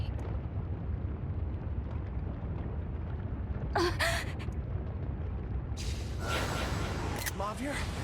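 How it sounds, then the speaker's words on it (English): A temple collapsing in a video game after its pillars are destroyed: a steady, heavy low rumble with two louder crashing bursts of debris partway through, dense and continuous throughout. "The pillars have been destroyed. Now the temple will collapse."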